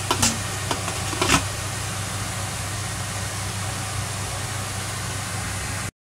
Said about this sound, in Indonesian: Kita goreng ikan salapnya ya teman-teman.